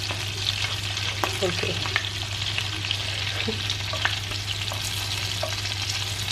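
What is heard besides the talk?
meatballs frying in a pan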